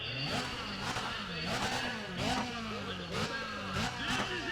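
Car engine in the racing video game Need for Speed ProStreet revving toward the redline, with about five repeated surges of climbing revs broken by quick gear shifts, heard close and under a talking voice.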